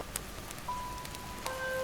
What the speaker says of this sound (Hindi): बरसात की आवाज़